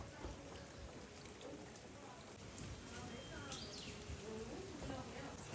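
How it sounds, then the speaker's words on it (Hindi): Rain falls outdoors in a spot looking out on tall deodar trees, a steady soft hiss throughout with faint bird chirps and people talking over it. "फिर से बारिश शुरू हो गई है।"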